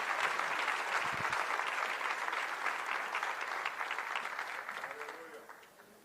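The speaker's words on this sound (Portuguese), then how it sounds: "Vamos aplaudir a Deus, vamos recebê-lo com alegria." A church congregation applauds with dense, steady clapping that gradually fades toward the end, with faint voices mixed in.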